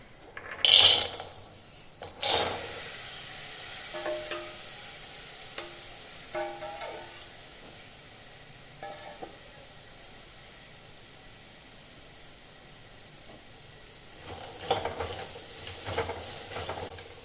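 Salted chickpeas fry in a hot pan with a soft sizzle under scattered scraping and stirring strokes, louder bursts at the start and end, and quieter stretches in between, with no talking.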